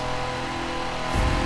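A classic Lamborghini Miura's engine roars inside a racing video game, a loud, continuous, buzzy drone with a throatier surge near the end.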